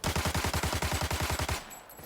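FAL rifle fired in Arena Breakout, a rapid burst of about fifteen loud, evenly spaced close shots lasting around a second and a half, then quiet tail.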